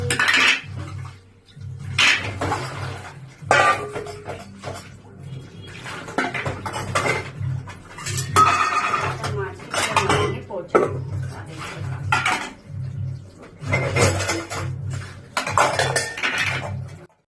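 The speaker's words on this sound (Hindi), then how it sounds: "तो अब हम मांजते हैं बर्तन। बर्तन है बहुत सारे।" Many dishes, pots and utensils being scrubbed and washed at a sink, with steady clanking, scraping and clattering throughout and close, fairly loud metal knocks repeating in bursts.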